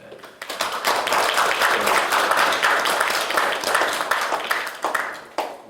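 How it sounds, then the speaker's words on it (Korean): An audience at a political party's field supreme council meeting applauds, many hands clapping in a dense, loud burst that rises quickly, holds, then thins out into a few last claps. "박수로 크게"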